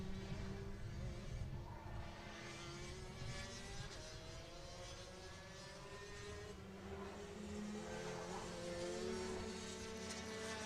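A fast BMW drag car, a 10.6-second car, runs down the strip at a Killarney test-and-tune meet, its engine droning and climbing in pitch at a distance over steady background noise.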